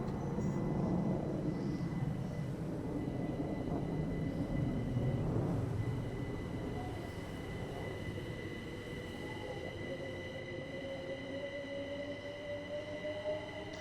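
A Heathrow Express train unit rolls past in Train Sim World 3, a loud low rumble that fades over several seconds, leaving faint sustained tonal whines and hum.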